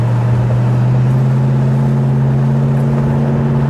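Steady low engine drone from a red 1967 Ford Mustang GTA GT convertible cruising along, loud and constant from inside the car with no voices over it.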